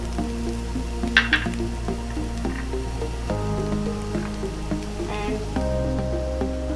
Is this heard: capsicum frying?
yes